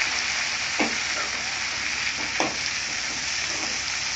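Sorrel leaves being stirred into frying ingredients in a pan for sorrel leaf chutney, a steady sizzle throughout with a few soft scraping strokes of the spoon, close and moderately loud.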